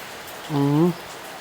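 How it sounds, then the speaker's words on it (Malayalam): Steady rain hisses throughout, with a short voiced tone rising briefly over it in the middle. "പുറത്ത് വന്ന് നോക്കുമ്പോൾ നിങ്ങളോട് പറയാം, പൊരിഞ്ഞ മഴ, ഒരു രക്ഷയില്ല"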